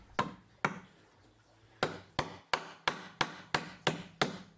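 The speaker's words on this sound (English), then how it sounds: "Now I'll finish driving in all the nails." Hammer driving nails into a pallet wood table frame by hand, about eleven sharp, close knocks, first spaced out and then falling into a quick, steady rhythm.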